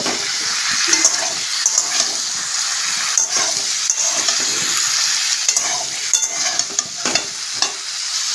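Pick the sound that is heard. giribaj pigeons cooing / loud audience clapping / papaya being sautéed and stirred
papaya being sautéed and stirred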